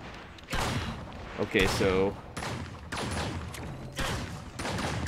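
Weapon shots in the video game Tower of Fantasy, repeated sharp blasts and charged bursts in uneven clusters, loud and close, with someone talking between them.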